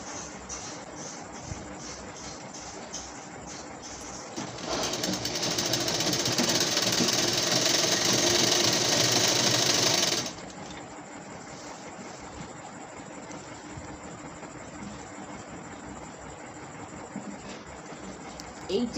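A sewing machine runs in a fast burst for several seconds, stitching a fall border onto the edge of a saree, set against quieter background noise with short mechanical sounds before and after.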